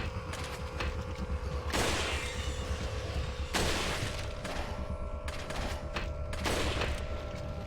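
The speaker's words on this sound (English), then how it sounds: "those guys will pop out and shoot rockets at me" Enemy rocket fire in Resident Evil 4 comes as three heavy broadband whooshing blasts spaced about two seconds apart, each decaying slowly over a steady low mechanical hum and a faint tonal drone.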